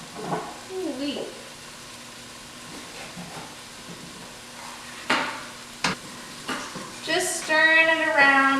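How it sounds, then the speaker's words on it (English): Potatoes frying in a pan and being stirred, a steady low sizzle with scraping and clattering knocks, and voices heard briefly over it. "Just stirring it around, make sure we're getting it nice and cooked"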